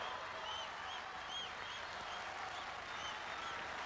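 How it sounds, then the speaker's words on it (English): Crowd at a 1994 European Cup athletics race in Birmingham cheers a front-running runner, a steady broad roar of applause and voices at a distance, unbroken through the clip. "And Fada's being cheered on by the crowd"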